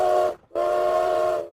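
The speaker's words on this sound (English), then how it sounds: "put in a train whistle." A train whistle sound effect gives two sustained tonal blasts, a short one followed by a longer one, loud and clear with no voices.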